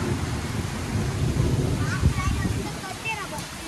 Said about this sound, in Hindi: तो देखिए बारिश का माहौल दिखाते हैं इधर से